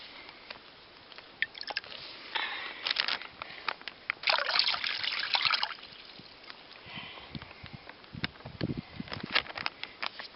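Water poured into a bag outdoors while collecting water, heard as uneven trickles, splashes and squishy sloshes in short bursts with a longer pour near the middle, close and fairly quiet.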